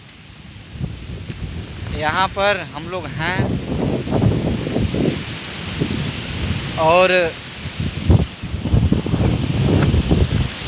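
Strong storm wind roars steadily with rain noise and gusts buffeting close to the microphone, while someone talks over it throughout.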